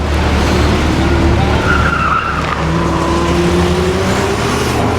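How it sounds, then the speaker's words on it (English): Cars roar and their tires squeal at a Porsche Club autocross, a loud, continuous engine drone with skidding tire noise and a faint voice in the background. "as you can see behind me, the cars are running"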